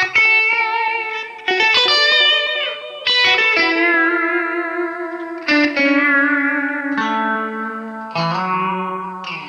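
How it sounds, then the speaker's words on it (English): Sitar model on a Line 6 Variax guitar played through a Helix processor: loud, bright plucked notes with a buzzing, droning sitar twang and reverb tails, a short melodic phrase picked alone without talk. "No matter what I do, you still hear that sitar."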